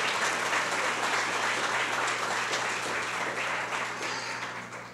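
A congregation in a church service claps together in sustained, loud applause, a thick steady patter of many hands that fades a little near the end.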